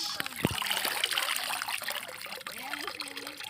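Freshly picked bottle gourd greens are rinsed by hand, with water trickling and splashing gently at close range and a faint voice in the background.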